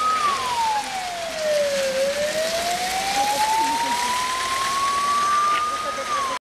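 A loud, close ambulance siren wails in a single slow tone that falls and then rises again, sustained for several seconds over a hiss like rain.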